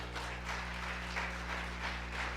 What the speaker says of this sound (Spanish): ¿Cuántos se animan a darle un aplauso a Jesús?